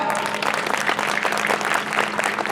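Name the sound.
audience applause for actress Bhavana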